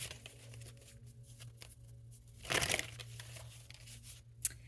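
Tarot cards shuffled quietly by hand in a reading, soft papery riffling and crinkling with one louder burst of card noise midway, over a faint steady background hum.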